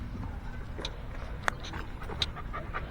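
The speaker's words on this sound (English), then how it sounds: "you're breathing on me, dog" Dog panting right against the microphone, quick rhythmic huffs of breath repeating steadily for a few seconds, close and fairly loud with no talk.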